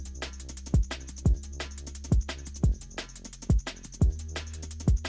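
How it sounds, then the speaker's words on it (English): Liquid drum and bass mid bass wobble built in a wavetable synth, a steady pulsing wobble under a repeating pattern of sharp kick-like hits, loud and up front with no voice. "I showed you how to make the mid bass wobble within the wavetable synth"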